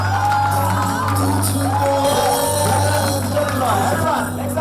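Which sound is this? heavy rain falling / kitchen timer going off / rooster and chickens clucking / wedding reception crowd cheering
wedding reception crowd cheering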